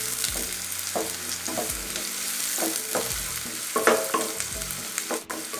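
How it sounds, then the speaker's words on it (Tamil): Onions with curry leaves and slit green chillies sautéing in a pan for vada curry: a steady close sizzle punctuated by repeated spatula stirs and scrapes, with no speech. "இப்போ வெங்காயம் நல்லா வதங்கணும்."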